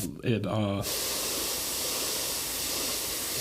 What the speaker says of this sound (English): So this is why I'm spraying it in these like middle areas.